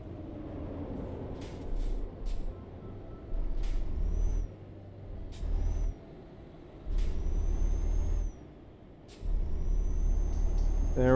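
A big rig in Euro Truck Simulator 2 on a narrow lane, its engine rumbling in repeated surges, with sharp air-brake hisses and brief squeals between them.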